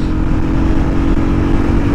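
A Motorstar Zest 110 motorcycle on a test ride gives a loud, steady engine hum close by, with constant wind rumble mixed in and no speech.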